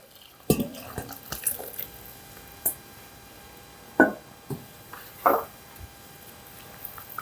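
Six cups (1.2 L) of dried pollack broth stock is poured into a pot of spicy pollack yukgaejang, giving quiet, intermittent splashes and clunks spread over several seconds, with no talking.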